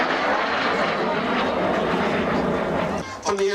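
A MiG-15 jet flies past at the Scottish National Airshow in East Fortune, a steady, loud, broad engine roar that holds for about three seconds and then fades.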